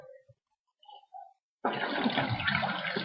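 Rose water poured into a container for a DIY face toner, a steady liquid splash that starts abruptly after a few soft handling clicks and runs on close and fairly loud.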